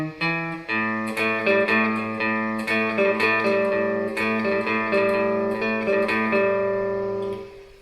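Sustained riff on guitar with clean harmonic tones, a steady rhythm of repeated picked notes and chord changes played alone, close and fairly loud.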